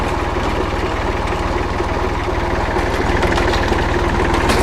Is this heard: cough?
no